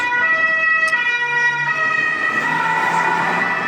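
Police siren wailing on an Italian street, a loud rising and falling electronic tone that carries over steady traffic noise, close by and without talk.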